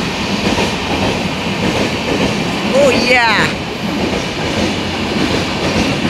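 A train rolls in along the rails with a steady, loud rumble and a brief high wheel squeal partway through, while a voice speaks briefly close by.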